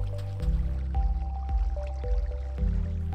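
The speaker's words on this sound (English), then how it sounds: "place buckets of water in each corner of this pit. All of the water should flow towards the middle" Minecraft water buckets emptied into the corners of a dug pit, each placement giving a low liquid splash followed by a gurgling flow, repeated several times in a steady rhythm.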